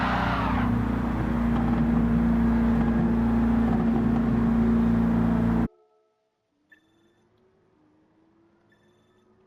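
Race car engines roar loud and steady while overtaking in Gran Turismo 7, a dense continuous drone lasting about five and a half seconds before cutting abruptly to near silence.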